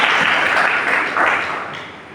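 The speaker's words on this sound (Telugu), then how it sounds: "దేవునికి ఒకసారి గట్టిగా చప్పట్లు కొడతారా?" A church congregation at a Sunday service applauds together, a dense burst of clapping that holds steady and then fades slightly over about two seconds, with no speech.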